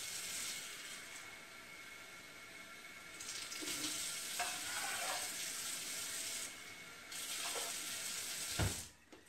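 Water runs from a kitchen tap into a cup, a steady hiss with the rising pitch of the filling vessel, close by, then a brief clunk as the flow stops.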